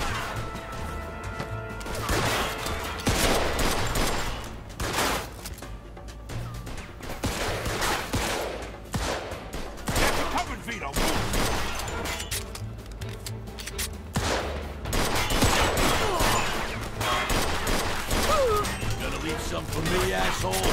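Gunfire in the Mafia 2 video game, with loud repeated shots and bursts mixed with crashes and impacts throughout, and voices shouting over the shootout.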